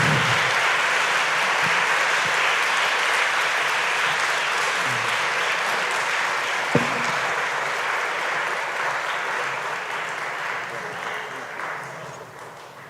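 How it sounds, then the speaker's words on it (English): Warm audience applause at a photography exhibition event, a dense, sustained wash of many hands clapping that holds steady for several seconds and then slowly thins and fades toward the end. "Can I ask you to give a very big, warm applause to Sidi Peter Sanders."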